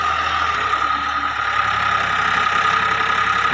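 A Millat tractor engine runs at a steady idle close by, a continuous low rumble with a constant mechanical drone that never changes pace, with no talk over it.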